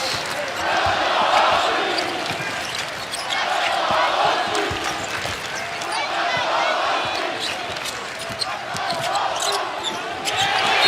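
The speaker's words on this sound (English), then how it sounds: "The UConn fans making some noise." UConn fans roar in a college basketball arena during a Florida State game, a loud, sustained crowd cheer that swells in waves throughout, with ball bounces and an announcer's voice running underneath.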